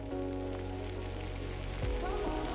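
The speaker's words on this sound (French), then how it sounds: "Bon là il commence à pleuvoir." Rain begins falling outdoors in Ireland as a soft, continuous patter and hiss, with a low steady hum underneath and a brief louder rustle near the end.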